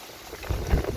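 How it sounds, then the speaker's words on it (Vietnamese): Strong wind gusting over a river during eel fishing, rough blustery buffeting that builds in the second half, loud and close, with no voices. "Trời gió quá mọi người ơi"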